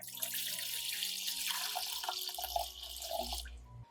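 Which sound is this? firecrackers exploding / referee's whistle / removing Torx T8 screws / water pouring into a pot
water pouring into a pot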